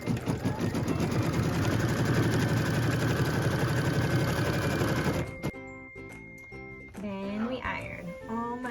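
A sewing machine stitches fabric for a pieced quilt block, running steadily and rapidly for about five seconds before stopping, followed by quieter intermittent handling sounds.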